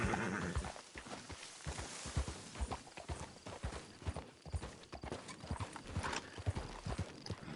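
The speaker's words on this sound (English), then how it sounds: "Riding on my horse." Horse hooves clip-clopping at a steady walking rhythm while riding in the GTA video game, close and continuous with an occasional faint whinny, no talking over them.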